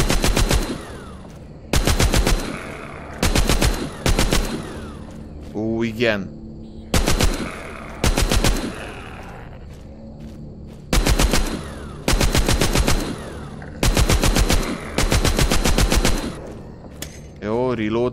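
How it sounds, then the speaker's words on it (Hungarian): Minigun fire against zombies in The Walking Zombie 2, roaring in long sustained bursts separated by short pauses, loud and close, with a player's excited voice breaking in between bursts. "Adjad ide a minigunt azonnal!"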